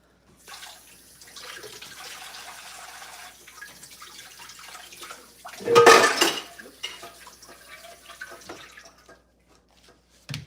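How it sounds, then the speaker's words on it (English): Diced potatoes rinsed under a running kitchen tap make a steady splashing hiss with light clinks of a bowl or pan, swelling into a louder gush of water near the middle before easing off, close by with no talk. "Rinse them off."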